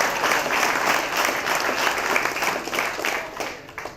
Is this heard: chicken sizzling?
no